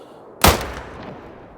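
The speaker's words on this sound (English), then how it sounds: "firing off 5 shots in a row" A single sharp rifle shot from the Quist Reaper in the hunting game theHunter: Call of the Wild, a loud sudden crack followed by a rolling echo that fades over about a second, with no talk.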